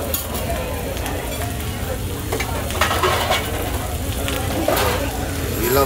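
Egg, onion and garlic fry with rice on a teppanyaki grill, a loud steady sizzle with scraping spatula strokes throughout, and a voice talking underneath.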